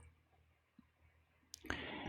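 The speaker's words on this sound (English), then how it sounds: "Okay, so I'm going to click send." A computer mouse is clicked to send a request, giving a couple of faint, brief clicks in a quiet room before a steady broadband hiss rises and holds to the end.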